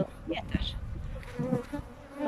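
Honeybees buzzing steadily around a small apiary of five or six hives, a continuous insect drone close by with no talking.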